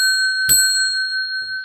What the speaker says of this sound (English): I'm about ready to give up on that bell.